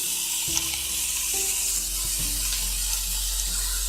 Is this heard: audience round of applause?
no